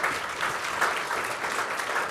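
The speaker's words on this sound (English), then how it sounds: "A round of applause," A room full of people applauds a discussion panel at a business and cultural diplomacy event, with steady, dense clapping that holds at an even level for a couple of seconds, without any voices.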